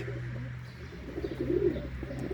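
Tumbler pigeons, a brown female and a multicolored male about a year old kept indoors, coo softly and steadily against a low background hum, with the murmuring swelling slightly toward the end.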